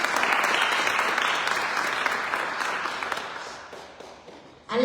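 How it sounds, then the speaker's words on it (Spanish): An audience at a cultural talk in Guanajuato applauds, steady clapping that gradually fades out before a voice cuts in at the end. "un fuerte aplauso para la cronista del municipio de Purísima del Rincón, Araís Montserrat Reyes."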